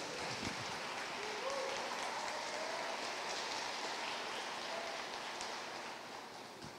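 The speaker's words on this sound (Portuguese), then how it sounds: "Aplauda o Senhor" A church congregation applauds during a sermon, a dense, steady wash of many hands clapping at a distance, sounding almost like rain, fading slightly toward the end.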